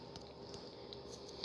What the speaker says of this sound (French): Oh non, merde, il pleut.